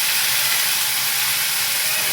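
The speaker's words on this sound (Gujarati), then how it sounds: "હવે તેલમાં જીરું નાખી દઈશું" Cumin seeds hit hot oil in a pan for kantola curry, giving a loud, steady, bright sizzle and hiss that holds evenly from start to finish with no voices.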